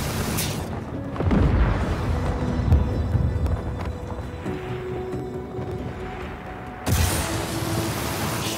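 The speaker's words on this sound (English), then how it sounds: "big explosion." Big explosion in the video game Just Cause 4, a loud low rumbling boom that rolls on for several seconds, then a second sharp blast near the end, with no talking.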